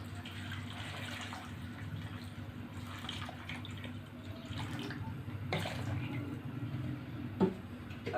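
Water pours steadily into a cooking pot holding raw mango pieces and sugar, a continuous splashing flow of about 1.5 litres with small clinks and knocks against the pot and a quiet room behind.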